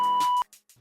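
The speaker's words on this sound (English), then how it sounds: "go ahead and leave your question at the sound of the beep." A single steady voicemail beep, loud and clean for about half a second, followed by brief faint breaths or small noises before a caller begins.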